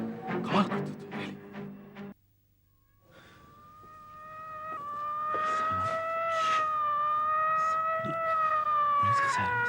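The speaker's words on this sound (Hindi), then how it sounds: "पुलिस का सायरन बजता।" A police car siren from a classic Indian TV drama rises in after a short burst of voices, then wails steadily and loudly with a wavering pitch for the rest of the stretch.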